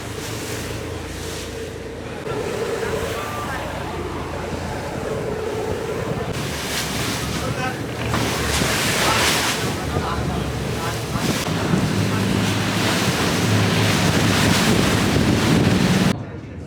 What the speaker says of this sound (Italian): siamo in riva al mare